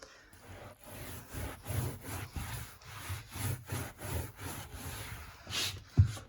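Dye is rubbed into carpet by hand in a steady back-and-forth scrubbing rhythm, a close, soft, rasping sound repeating about twice a second, ending with a brief knock.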